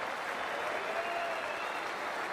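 A stadium crowd in an IPL cricket video game cheers and claps in a steady, dense wash of applause that holds at an even loudness throughout, with no one talking over it.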